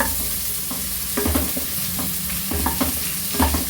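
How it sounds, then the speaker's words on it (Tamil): Chopped onions sauté in hot oil with a constant, dense sizzle, while a spoon stirs and scrapes the pan in several uneven bursts. "இப்போது எண்ணெய் சூடாயிடுச்சு. வெங்காயம் போடுறோம். வதக்கிடலாம்."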